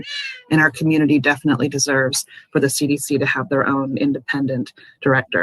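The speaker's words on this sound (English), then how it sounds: "And I'm sorry for my cat. She wanted to join in on the public comment." A house cat meows at the start of a county board of supervisors public comment call, then someone speaks steadily over the line; the meow is brief and close before her talk begins.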